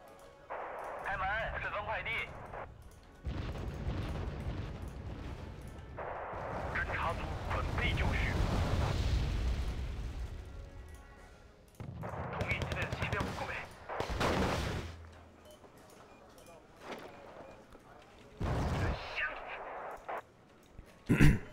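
Malka self-propelled artillery firing salvos in the real-time strategy game Wargame: Red Dragon, heavy booming blasts recurring in bursts over the battle, with someone talking between and over the shots.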